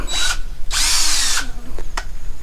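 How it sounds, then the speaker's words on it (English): Cordless hammer drill in a garage workshop in Thailand, revved in several short close bursts of high whining motor, one longer run in the middle and a couple of quick blips at the end. "It's got 11 settings, it's got a hammer and a drill."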